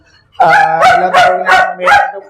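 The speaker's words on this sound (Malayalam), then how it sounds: "ഡോഗ്സ് സൗണ്ട് കേട്ടപ്പോ പറഞ്ഞു നമ്മൾ ഡോഗ്സിനെ കാണിക്കുന്നത്" Several dogs bark at a dog boarding kennel, loud and close, in a steady run of five or so barks with some yipping mixed in.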